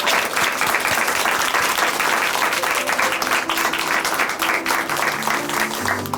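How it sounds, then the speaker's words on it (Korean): A church congregation at Chuncheon Hanmaum Church applauds at the close of a testimony broadcast. The clapping is steady and dense from start to finish, and soft music plays underneath. "하나님께 영광의 박수 올려드리겠습니다"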